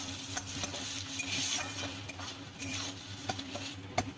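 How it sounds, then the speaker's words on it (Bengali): Onions frying in a pan until lightly reddened for a Bengali mustard-oil fish curry, with a steady low sizzle under repeated clinks and scrapes of a spatula stirring against the pan, close and moderately loud throughout. "পেঁয়াজটাকে হালকা লাল করে ভেজে নিচ্ছি"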